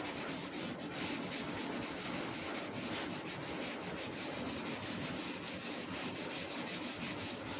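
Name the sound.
rubbing out writing on a board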